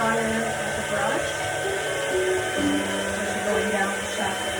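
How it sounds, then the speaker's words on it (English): Hair dryer blowing steadily at medium setting while hair is dried and shaped with a round brush, a continuous close whirring hum with a voice talking over it. "just start drying and shaping, and putting the dryer at the brush"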